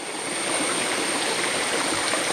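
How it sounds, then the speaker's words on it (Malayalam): A small forest stream rushing over rocks, a steady close wash of flowing water with no voices. "നല്ല അടിപൊളി ഒരു അരുവി ഒഴുകി വരുന്നുണ്ട്"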